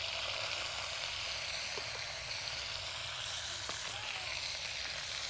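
Ghee with masala sizzles steadily in a pan, a constant close hiss of frying with a couple of faint clinks of stirring, no talking.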